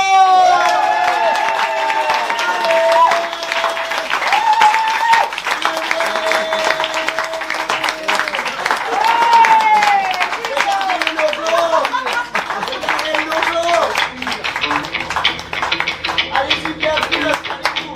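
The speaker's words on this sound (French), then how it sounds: "un tonnerre d'applaudissements pour Guy Lebord" Audience at a comedy show welcoming comedian Guy Lebas, a sustained burst of clapping and cheering from a crowd, with whistles and shouts mixed in, steady throughout.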